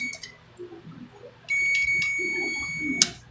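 A steady high electronic beep from a Type 86 wall switch being wired sounds for about a second and a half, ending with a brief sharp click, over quiet background noise.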